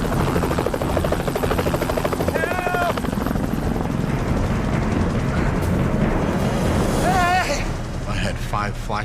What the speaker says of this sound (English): aimed at the helicopters as they were flying along their route